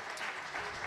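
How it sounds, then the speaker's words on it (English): Conference audience applauding the panelists at a defense discussion, a brief, even burst of many hands clapping, soft and somewhat distant, with no pauses. "A round of applause, please. Big round of applause."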